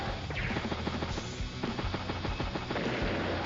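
Artillery fire from the turn-based strategy game Advance Wars: Days of Ruin, a dense run of sharp, close impacts and bursts over a steady low rumble, loud and continuous with no talking.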